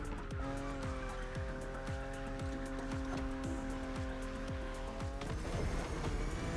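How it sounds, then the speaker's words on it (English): A BMW Z4 E89 in the racing video game The Crew Motorfest drives hard in Hawaii, its engine revving steadily through rapid gear changes with tire squeal, loud and continuous without talk. "Your car is the Z4 E89, a very cool model for two major reasons."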